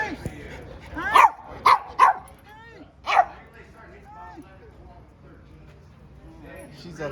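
A puppy gives several sharp yips and barks in quick bursts near the start and another a moment later, close by, with a person talking to it in between and afterward.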